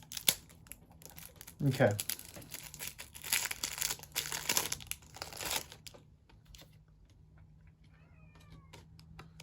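Magic: The Gathering Jumpstart booster pack torn open by hand, with loud crinkling foil around the two-second mark and more rustling afterward, then softer handling noises while a person speaks briefly.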